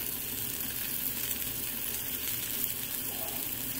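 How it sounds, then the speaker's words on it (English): Canned sardines fry in a pan outdoors, a steady close sizzle and crackle running evenly throughout with no voices. "I'm out here cooking sardines"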